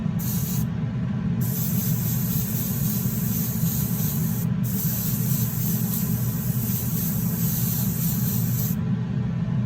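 A spray gun laying paint onto a primed CXT truck model, a continuous close airy hiss that stops briefly twice before running steadily on.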